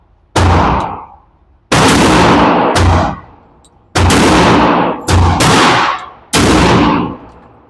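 Loud, sharp reports from 1911 single-stack pistols at an outdoor shooting range, six shots fired singly with gaps of about a second, each followed by a ringing decay; no talking over them.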